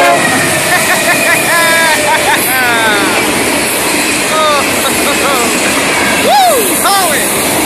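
A Florida East Coast freight train with two engines rushes past at speed, its horn sounding in repeated wavering blasts over a loud rumble of passing cars, with voices calling out nearby.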